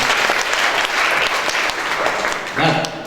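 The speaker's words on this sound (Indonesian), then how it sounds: "Berikan lagi tepuk tangan semangat." A Sunday church congregation claps loudly and continuously throughout, dense applause filling the room, with a voice briefly heard in the mix near the end.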